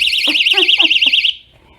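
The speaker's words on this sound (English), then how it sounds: "alarm system went off" A home alarm system sounds a loud, rapidly warbling electronic siren close by for over a second, then cuts off abruptly into near silence.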